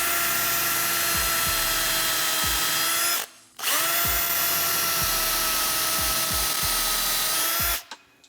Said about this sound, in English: Line up your point and drill until the collar stops it.